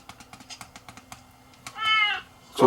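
A cat meows once, loud and drawn-out, in a recording played back through a Retekess V115 radio MP3 recorder, following a run of soft rhythmic keyboard-like clicks; a second sharp burst comes at the end.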